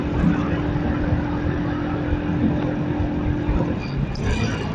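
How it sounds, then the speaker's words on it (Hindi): A motorbike engine labours in fourth gear while climbing a gentle slope on a mountain road toward Chitral, giving a steady, loud drone with wind rush throughout and a brief higher whine near the end. "ये भी थोड़ी सी चढ़ाई है, इसीलिए बाइक जो है चौथे गिर रहेगा, तंग हो रही है ज्यादा, थोड़ा सा पुश किया बाइक को।"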